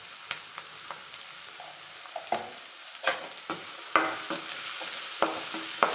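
Chopped onion with turmeric powder frying in a pan for sago upma hisses steadily, with about a dozen sharp spoon scrapes and taps against the pan at irregular intervals, close by.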